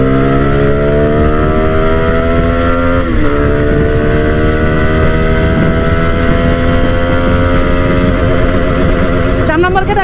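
A CFMOTO 250SR motorcycle engine pulls hard and close, its rising harmonic whine climbing steadily through the gears with a brief dip around a shift, loud and continuous over wind roar.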